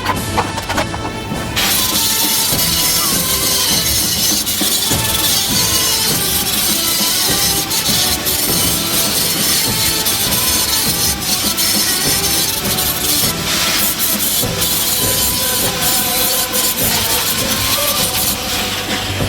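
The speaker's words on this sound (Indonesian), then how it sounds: "Lalu kita bersihkan bekas las-lasannya dengan gerinda sehingga akan lebih rapi dari bekas las-lasannya." An angle grinder cleans weld marks on a modified Avanza rear bumper, a loud continuous harsh grinding roar with rough scraping texture that runs almost unbroken throughout.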